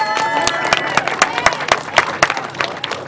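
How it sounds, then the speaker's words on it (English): Crowd applause for veterans at a campaign speech, a run of loud, evenly spaced rhythmic claps over a bed of general clapping and cheering from the audience. "You deserve a round of applause."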